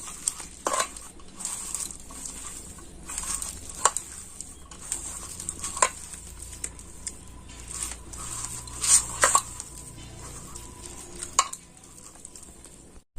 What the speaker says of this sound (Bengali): এবার এটাকে আমি ভালো করে মেখে নেব হাত দিয়ে।